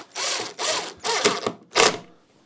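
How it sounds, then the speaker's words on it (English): Four short whirring bursts of a driver screwing feet back onto the backside of a PA subwoofer cabinet, each a brief close rasping spin separated by short pauses. "I'm taking the actual feet and screwing them properly on the backside without damaging anything back here"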